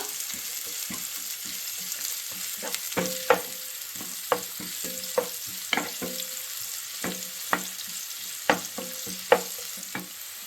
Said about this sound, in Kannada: ಈರುಳ್ಳಿ ಹಾಕ್ತಾ ಇದ್ದೀನಿ. ಇದನ್ನು 1 ರಿಂದ 2 ನಿಮಿಷ ಬಾಡಿಸ್ಕೊಳ್ಳೋಣ ಸ್ವಲ್ಪ.